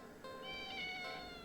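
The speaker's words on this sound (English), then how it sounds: "It's an interesting looking cat." A cat meows once, a soft, drawn-out and fairly faint cry with no talking over it.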